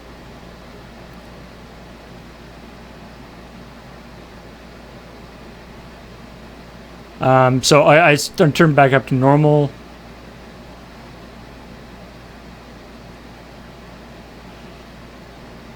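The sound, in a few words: air conditioner white noise in the room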